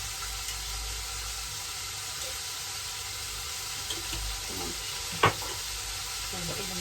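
Liver frying in a pan seasoned with salt and sumac gives a continuous sizzle. A few soft scrapes of stirring are heard, with one sharper clink of the utensil against the pan partway through.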